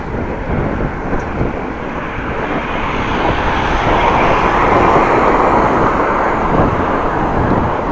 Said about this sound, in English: we have a head-on wind at the moment